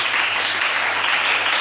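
A church congregation bursts into dense, steady applause in acclamation of the Lord, the clapping even and continuous throughout the short moment.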